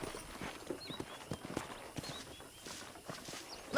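A horse's hooves clip-clop at a walking pace on a ranch in Red Dead Redemption, an even run of soft steady thuds under a faint game ambience, with no voices.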